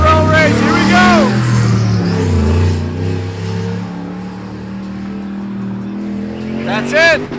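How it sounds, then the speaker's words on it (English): Street cars in a roll race in Alaska rev and accelerate hard, with loud rising engine whines near the start and again at the end and a lower rumbling drone between, with talk over the top. "we are seconds away from the very first official roll race"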